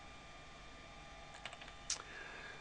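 Typing on a computer keyboard: a short, quiet burst of a few light clicks and taps against a faint steady hum.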